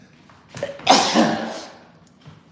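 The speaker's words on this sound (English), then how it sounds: "Oh, I gotta sneeze again." A single loud sneeze bursts out close by, rising sharply and trailing away into quiet.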